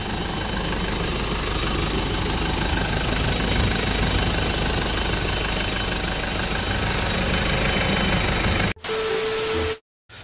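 A 2009 Mitsubishi Pajero engine idles with a loud, steady, even drone close by, then cuts out abruptly near the end into brief silence and a faint tone.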